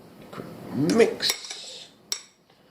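A utensil beating a cracked egg in a bowl, a few quick close scrapes and clinks followed by a single sharp tap, alone in a quiet kitchen.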